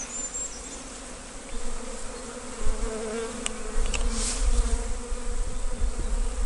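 A swarm of honeybees walking into a new hive, a dense, steady buzzing drone close by, with a few louder passes as individual bees fly near and low rumbles of handling underneath.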